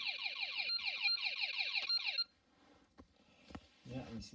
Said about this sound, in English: That's going to alarm.